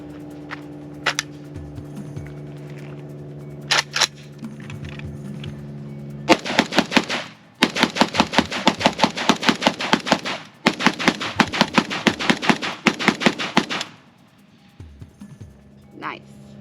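Draco Mini AK-47 rifle firing outdoors through different magazines, with loud sharp rapid bursts of semi-auto shots in long strings, separated by short pauses and a little talk before the shooting.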